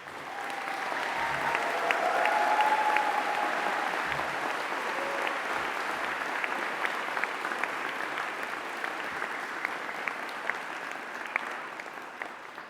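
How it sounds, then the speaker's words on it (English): Sustained applause from a large graduation ceremony audience in Greenwich, steady dense clapping that swells early and holds throughout, with a few sharper individual claps standing out near the end. "give a big round of applause for the graduates"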